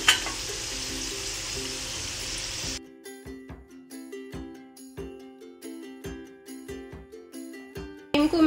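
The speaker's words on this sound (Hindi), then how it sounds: "ये देखिए अच्छे से फ्राई हो गए हैं। अभी इनको हम ऑयल से बाहर निकाल लेंगे।" Masala-coated groundnuts frying in hot oil give a steady, dense sizzle for the first few seconds. The sizzle then drops off into a run of scattered clinks and scrapes, with a short burst of frying returning at the end.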